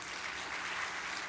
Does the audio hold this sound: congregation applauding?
yes